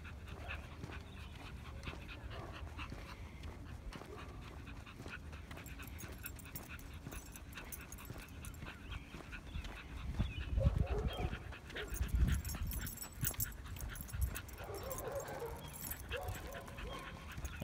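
A dog pants quietly close by on a neighbourhood walk, breathing steady and soft beneath street ambience, with a few small whines and a louder stretch of rustling movement midway.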